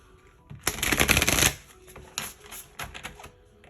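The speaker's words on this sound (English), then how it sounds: "let's pull you some more cards" A tarot deck is shuffled in a quick burst of riffling, followed by a few softer card slides and taps as cards are drawn, close up with no voice.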